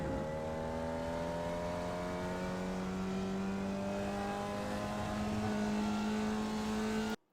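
A Formula Vee race car in iRacing at the Okayama circuit holds a loud, steady engine drone, its pitch rising slowly as it accelerates through the gears before cutting off abruptly at the end.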